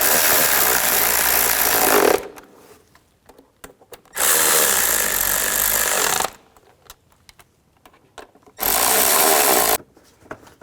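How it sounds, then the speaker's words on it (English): Cordless power tool driving down the ignition coil bolts on a 2003-08 Nissan Maxima: three loud, sustained whirring bursts of about two seconds each, separated by quiet gaps with small clicks and handling noises. "Put the bolts back in. Get them all lined up. And snug these down."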